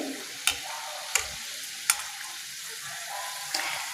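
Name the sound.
gujiya frying and being stirred in oil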